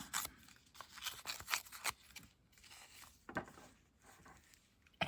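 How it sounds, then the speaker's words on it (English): Close, quiet snips and rustles of scissors trimming paper, an uneven run of short cuts and crinkles with brief pauses between them. "I guess I could trim it a little bit."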